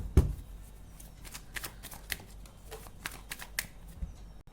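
Tarot cards being shuffled by hand: a sharp riffle burst at the start, then a run of soft, quick papery flicks and slaps at close range, quiet and with no voices.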